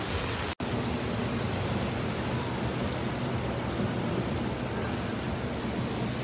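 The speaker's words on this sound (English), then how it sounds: "Since I moved back to New York, it's raining and shit." Steady rain falls on a New York street, a dense, even hiss heard close with no voices, broken only by one brief dropout near the start.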